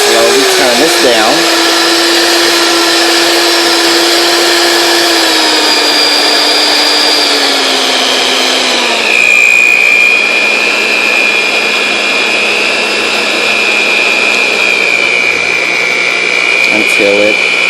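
An electric hand mixer beats pound cake batter with a steady, loud whine whose pitch steps down as it is slowly turned to lower speeds, close and continuous throughout.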